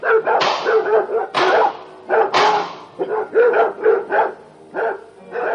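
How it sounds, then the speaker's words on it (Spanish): Several guard dogs bark loudly and furiously in rapid bursts close by, some barks yelping, with brief gaps between volleys. "le sobresaltó el furioso ladrido de sus perros guardianes"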